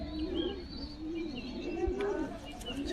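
High-flyer pigeons coo nearby in Krishnanagar in low, rolling, continuous calls, overlapping one another.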